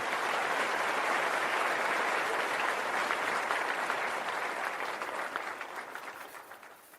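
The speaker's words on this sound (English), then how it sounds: "Let me give you some applause too, because this your first time commenting." Applause sound effect of a large crowd clapping steadily, full and dense at first, then gradually tapering off toward the end.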